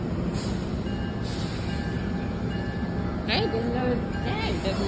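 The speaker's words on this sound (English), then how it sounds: "there's another metro train come" A MARC train rumbles steadily nearby at New Carrollton station with a faint squeal of wheels on rails, continuous and loud, with no clear talk over it.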